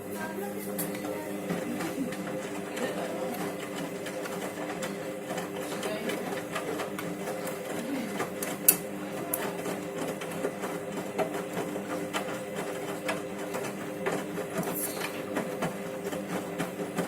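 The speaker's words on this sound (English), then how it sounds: "This is probably the best wash action I've seen on an Eco site." A Candy Grand Vita O washing machine runs a wash cycle, giving a steady low churning hum with faint sloshing and occasional small clicks at a moderate, even level.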